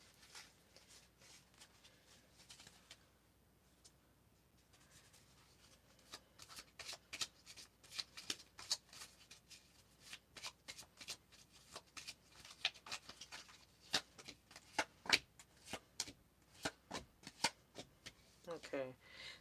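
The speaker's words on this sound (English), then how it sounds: "Gonna get our cards getting shuffled." A deck of tarot cards shuffled by hand during a live reading, soft riffling and flicking that starts faint and grows into rapid, close card snaps, with quiet talk underneath.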